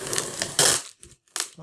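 Knife slicing packing tape on the box of an Antec P100 computer case, heard as a few close, crackling rips and crinkles of tape and cardboard separated by short pauses.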